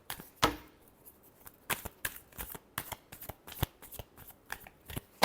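Tarot cards shuffled by hand in a final shuffle, a quick series of close, crisp riffles and taps in an irregular rhythm, fairly quiet with no speech.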